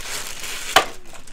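A single sharp snip or crunch as packaging around a Razer BlackWidow Chroma 2016 keyboard and its wires is cut open, close and brief over a faint rustling background.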